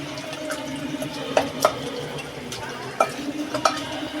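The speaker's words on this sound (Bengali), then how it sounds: "এ দেখুন ঘুটনি দিয়ে ঘুটছি আমি এইভাবেই" Boiled greens being crushed with a wooden hand masher (ghutni) in a pot, giving soft irregular squelching and stirring sounds with a few sharper wooden knocks, close by and steady without talk.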